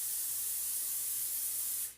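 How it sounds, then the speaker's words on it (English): A steady, close hiss of aerosol olive oil cooking spray greasing a pan runs for about two seconds before cutting off. "Now what I'm going to do is just grease this pan a little bit. I'm using a spray olive oil."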